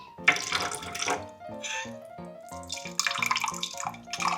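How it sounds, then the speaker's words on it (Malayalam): Water pours into a clay pot of beef curry being cooked, a bright splashing trickle that rises and falls in bursts and sounds close and clear, with no one speaking. "ഇത് നമുക്ക് കുറച്ച് വെള്ളം"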